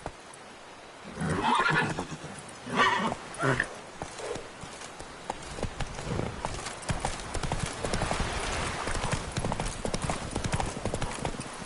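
Roach, a horse in The Witcher 3: Blood and Wine, trots with steady clip-clop hoofbeats and whinnies loudly near the start, the footfalls continuing under a busy game background.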